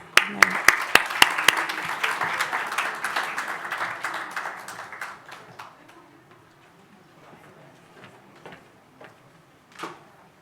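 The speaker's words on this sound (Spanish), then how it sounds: "Un aplauso." An audience applauds at a regional education panel on disability and resilience in Latin America. The clapping is dense and fairly close at first, then thins out after about five seconds into scattered claps.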